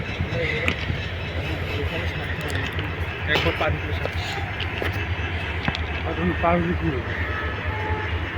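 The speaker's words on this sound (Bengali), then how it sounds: "রেলগাড়ি দাঁড়ানো আছে এগুলো ট্রেন যাত্রা করবে বিভিন্ন গন্তব্যে" Standing trains at Kamalapur railway station in Dhaka give off a steady low rumble across a busy platform, with brief horn-like tones and clanks rising over it while people talk throughout.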